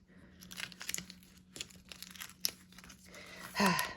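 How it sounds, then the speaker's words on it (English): Tacking tape peeled off an in-the-hoop machine embroidery crayon zip bag, a series of short crinkly tearing and rustling bursts, close and fairly quiet, ending in a louder rip. "So we've got that red tacked down, and we are going to take up our tapes."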